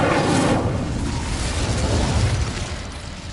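An Incendio fire spell erupts in Hogwarts Legacy, a loud, close burst of roaring flame that swells at the start and rumbles on with a low, crackling whoosh before easing off.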